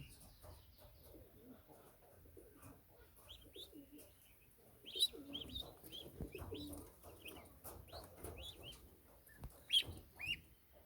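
Goose goslings being reared make repeated soft peeping and chirping calls, with a few louder cheeps standing out over a low, busy background.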